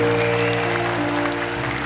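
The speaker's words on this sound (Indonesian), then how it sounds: "boleh berikan tepuk tangan yang lebih meriah lagi" A large audience at the Miss Indonesia grand final applauds for the 34 finalists, a dense steady wash of clapping over sustained low tones that fill the hall.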